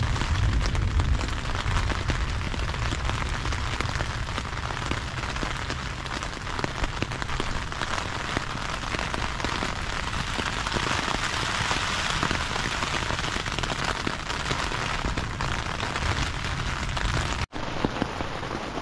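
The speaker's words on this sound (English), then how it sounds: "you can hear it's raining" Steady rain drums on the taut fabric of an REI Half Dome SL 2+ tent, a dense continuous patter close overhead with no voices, cutting off abruptly near the end.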